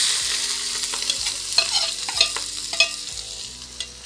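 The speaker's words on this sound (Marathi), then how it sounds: "त्याच्यातच आता ॲड करणार आहे मी आपण जो कांदा आणि मिरची घेतली होती ती दोन्ही सुद्धा एकसाथ आपण ॲड करणार आहोत।" Chopped onion and green chilies sizzle in hot oil in a kadhai for a wild kurdu vegetable dish. The frying is loud and close, broken by scraping stirs from a spoon.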